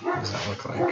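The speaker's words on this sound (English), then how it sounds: "I do apologize, that's my dog" A dog barks inside a house, a short close yelp-like burst that overlaps a voice speaking at the same moment.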